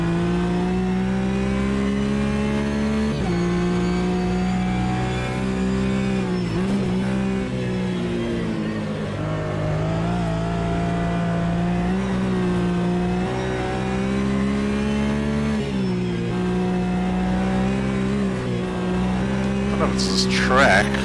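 A GT3 race car in Automobilista 2 at the Nürburgring holds a loud, steady engine drone that drops in pitch under repeated heavy braking over bumps, then climbs again on acceleration, with a voice talking over it.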